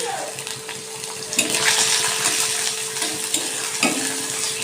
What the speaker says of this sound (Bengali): আমি এ জায়গায় কড়াই বসিয়ে তেল দিয়ে দিয়েছি দিচ্ছি আমি চিংড়ি মাছগুলো